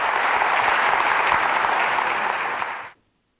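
Sustained audience applause greets Pakistan's defence minister Khawaja Muhammad Asif at a formal ceremony, a dense, steady wash of clapping for about three seconds before cutting off abruptly into silence.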